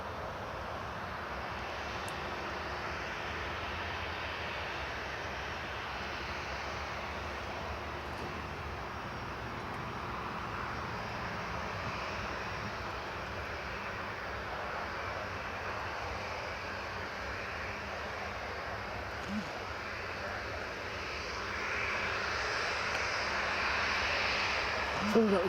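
An aircraft taxiing at Newcastle International Airport, heard as a distant, steady engine drone that rises slightly louder near the end, with a broad outdoor rumble around it.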